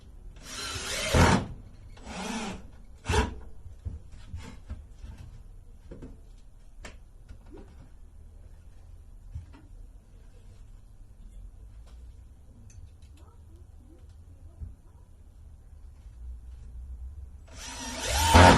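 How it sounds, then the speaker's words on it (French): A power screwdriver drives four screws into wood in short whirring bursts, several close together at the start and one more at the end, separated by quiet pauses with light handling noises. "on va pouvoir venir visser mes 4 vis"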